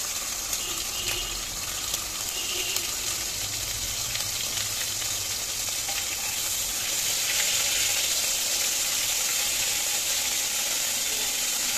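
Hot oil spatters and sizzles steadily in a heated pan while frying for a pasta dish, a continuous hissing crackle with sharp pops throughout and no talking.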